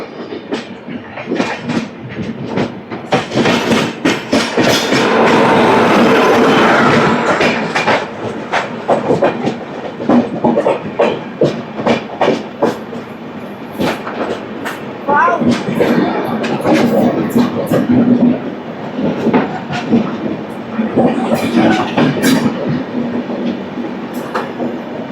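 The Coromandel Express rolls past on the Howrah–Chennai main line, loud and close, its wheels beating a steady clickety-clack over rail joints with a rushing swell of carriages and a voice talking faintly underneath.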